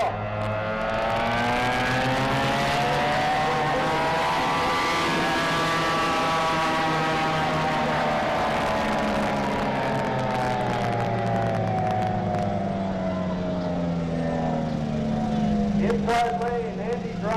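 Racing boats start a heat on Lake Tholocco, several engines droning and rising in pitch together as they pull away, with speech heard faintly over the roar.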